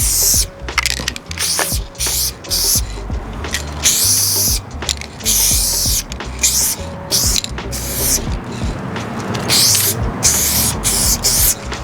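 Rust-Oleum spray cans with male valves lay down graffiti letters, giving loud, repeated hissing bursts broken by short gaps and the clatter of can handling, with no voices.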